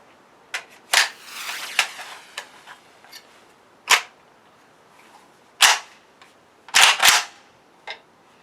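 Shots from a PAP M90 rifle with a reported malfunction, fired downrange outdoors: several sharp, loud cracks spaced irregularly over a few seconds, some with short ringing tails, against a quiet background.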